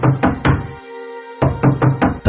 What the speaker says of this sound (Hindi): इस बार मैंने दरवाजे पर दस्तक देना शुरू किया